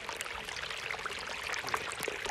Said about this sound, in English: Who knew the sound of running water could be so fulfilling?